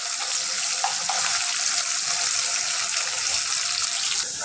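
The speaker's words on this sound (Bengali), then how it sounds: "এখন পেঁয়াজ আর মশলাগুলো দিয়ে একটু ভালো করে ভেজে নিব" Chopped onions and spices frying in a pan, an even, bright sizzling hiss that stays constant and fairly loud throughout with no talking.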